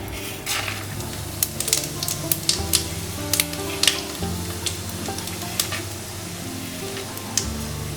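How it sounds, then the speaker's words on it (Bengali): Five-spice seeds and dry red chillies sizzle in hot oil, a steady crackling fry dotted with sharp pops and spatters, plus occasional utensil clinks, close and loud with no talking. "এবার ফোড়নটা দেব, একটু কম আছে যাতে পুড়ে না যায়। 5 ফোড়ন আর শুকনো লঙ্কা।"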